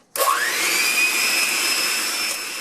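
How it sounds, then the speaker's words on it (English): Electric hand mixer whirs up to speed after a sharp start, then holds a steady, loud, close whine with a rising tone for the rest of the moment, alone with no talk. "I don't have the Osterizer like in the book, but I do have a hand mixer"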